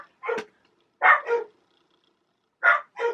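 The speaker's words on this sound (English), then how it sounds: "Bark sounds like that noise back there." A dog barks in three pairs of sharp, close barks separated by short silences.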